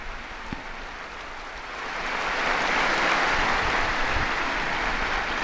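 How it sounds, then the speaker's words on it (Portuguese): A huge open-air crowd applauds a newly beatified person: a broad, distant roar of clapping that swells after a couple of seconds and then holds steady, with a soft rushing quality. "Um aplauso ao novo beato."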